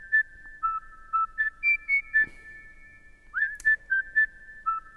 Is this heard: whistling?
yes